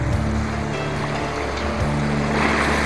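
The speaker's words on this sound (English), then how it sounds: "There's Barney Reef with all the white water." Surf breaks over Barney Reef near Hot Springs Cove off Vancouver Island, a steady wash of white water heard beneath the loud, constant hum of a boat engine.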